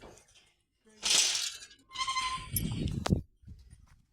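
Goats bleat several times nearby, loud wavering cries with short pauses between them, plus a brief metallic clink.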